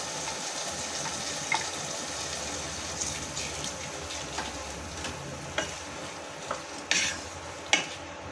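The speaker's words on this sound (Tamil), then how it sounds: "இப்போ வந்து நம்ம வேக வச்சு எடுத்து வச்சுருக்க பருப்பை உள்ள ஊற்றிடலாம்." Cooked lentils go into a pan for Tirunelveli sodhi curry and are stirred, with a soft wet sizzle under occasional spoon clinks and scrapes against the pan, close and moderately quiet.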